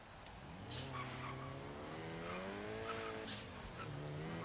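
Reliant Supervan engine in Forza Horizon 3, a steady, low-revving drone with rising and falling pitch, close and continuous. Brief tyre squeal and skid bursts come in twice.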